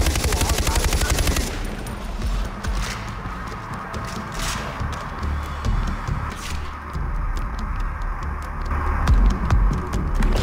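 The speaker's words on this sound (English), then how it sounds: "Someone is firing off rounds." Gunfire in the Far Cry 4 video game, a dense rattling burst at the start, then continued distant shots and rumbling action sounds under a busy game soundscape.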